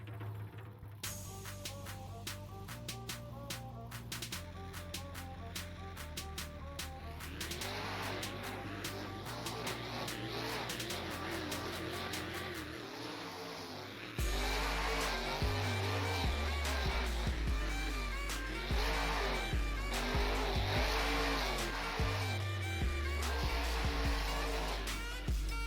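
Two race vehicles launch off the line at an MJRT drag event in Panama City, engines droning and rising in pitch, then a louder surge as they race down their lanes, heard from a distance with a little background talk.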